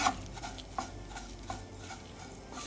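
Grated coconut roasting in a small pan for chammanthi podi, stirred with soft scraping strokes that recur about every second, quiet and close, with no voices.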